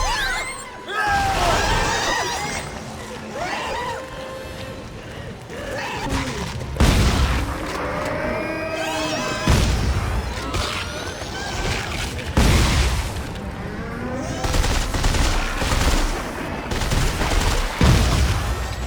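The force gun firing in Dead Space 3: a string of heavy, booming blasts spaced a few seconds apart, each with a crashing impact, over a busy layer of combat noise and creature sounds.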